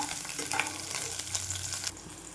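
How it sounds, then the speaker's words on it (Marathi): Loud, steady sizzling of chillies frying in hot ghee, crackling close up throughout, then dropping slightly quieter near the end; no talking. "साजूक तुपची फोडणी दिली आहे आणि हिरवी मिरची घातली याच्यामध्ये"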